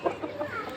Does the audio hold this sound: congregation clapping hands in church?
no